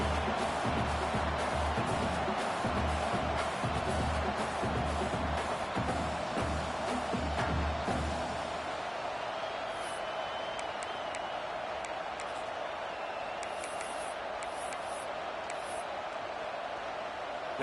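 Roar of a football stadium crowd before a field goal attempt, a loud, sustained wash of cheering and shouting that drops to a quieter murmur halfway through.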